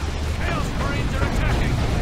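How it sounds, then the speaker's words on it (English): Cannon fire blasting through Havocs in a Dawn of War 2 Retribution battle, heard as dense continuous booming and rumbling with overlapping explosions, loud and sustained throughout. "Cannon right now is blasting through those Havocs"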